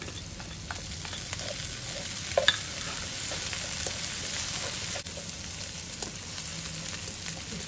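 Three spicy chillies fry in hot oil for paan mee goreng, giving a steady, fine sizzle with a few sharper pops and light stirring clatter throughout.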